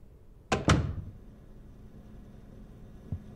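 A door opens in the retro horror video game Nightmare of Decay, sounding as two quick close thuds in a row, followed by quiet room tone and a faint soft bump near the end.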